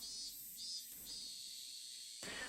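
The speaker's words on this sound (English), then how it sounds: "The great chorus of cicadas was strongly underlining how nothing was different today than yesterday." A dense, steady chorus of cicadas in a quiet village scene from the game Higurashi: Watanagashi, a continuous buzzing drone with a brief swell near the end, heard alone with no talking.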